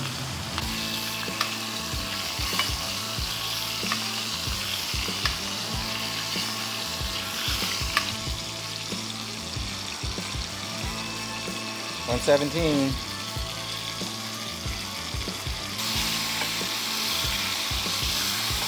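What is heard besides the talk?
steak sizzling in a pan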